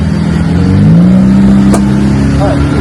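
A stuck car's engine revs loudly and steadily while the driver tries to reverse it, a continuous drone rising in pitch with a brief click partway through.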